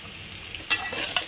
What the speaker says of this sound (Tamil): நூடுல்ஸோட எல்லா சைடும் படுற மாதிரி நல்லா மிக்ஸ் பண்ணி விட்டுடலாம்